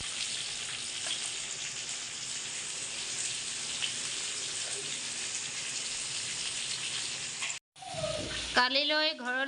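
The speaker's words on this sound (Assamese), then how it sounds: "এইফালে মাছ ফ্ৰাই কৰিম" Fish fries in a pan with a loud, steady hiss and sizzle of hot oil throughout. It cuts off briefly near the end, and then a voice speaks.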